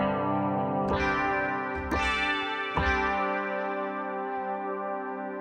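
Predator-3 wavedraw synth with stacked voices played with a strumming setting, giving a guitar-like tone: three strummed chords that ring out and sustain with chorus and effects, up close with no talking.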